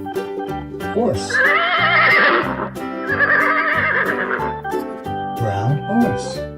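A toy horse gives a loud, close, wavering whinny, two long neighing calls followed by a shorter one, with faint clip-clop sounds beneath.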